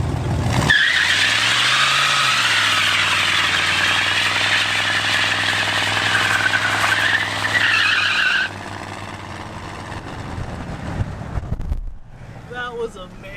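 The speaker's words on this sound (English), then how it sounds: "Should we see if we can scratch the tires?" A GMC truck with a 454 big block engine revs hard and spins its tires in a long, loud squeal that lasts several seconds over a deep rumbling idle, then fades out as people talk.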